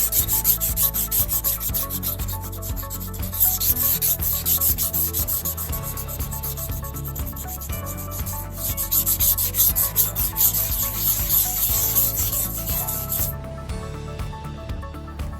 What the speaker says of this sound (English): after sanding with like a 500 grit and then 1000 grit